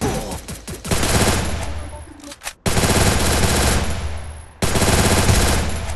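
Loud automatic gunfire in a shooter video game rattles in long, dense bursts, broken by a few short gaps between volleys.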